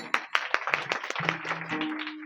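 Hands clapping in a rhythmic series of sharp claps from an audience at a devotional Marathi kirtan in Alandi, steady and fairly close, with a sustained tone entering toward the end.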